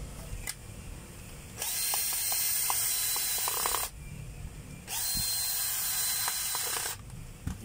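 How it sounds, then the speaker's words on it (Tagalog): A screw driven into the housing of a motor's field coil during a rewinding repair, with two long bursts of a whirring power driver separated by pauses, plus light clicks and handling noise, close up. "Bali, ilalagay lang natin yung screw."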